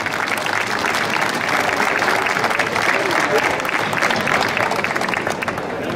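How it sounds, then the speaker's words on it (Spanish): Dense, steady applause from a festival crowd at a floral pilgrimage celebration, clapping for children, sustained and close for the whole stretch. "¡Aplausos para estos niños!"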